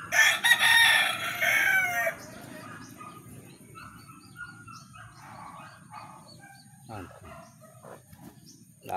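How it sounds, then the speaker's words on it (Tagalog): A rooster crows loudly at first, then hens cluck softly and intermittently in the background. "Ayan na po sila, yung mga manok."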